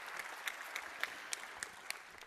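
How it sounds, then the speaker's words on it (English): An audience at a Euroscola session applauds in a hall, fairly soft clapping with several sharper individual claps standing out at irregular intervals. "Applause is always good."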